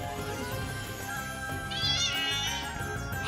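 A cat meows in the Bravely Default II video game, heard over steady in-game background music with a rising call near the middle of the clip.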